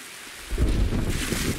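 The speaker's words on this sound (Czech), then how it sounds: "Ten déšť, to je peklo." Heavy rain with a low thunder rumble in a multiplayer video game, a loud, steady downpour that swells sharply about a third of the way in and stays dense, with no talk over it.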